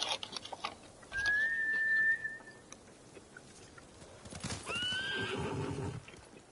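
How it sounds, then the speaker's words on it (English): Horses in the video game Ghost of Tsushima: a shrill, drawn-out whinny rings out early, then a second neigh follows later over soft hoof clatter and faint background ambience. "Bastards scared off the horses. They're samurai mounts,"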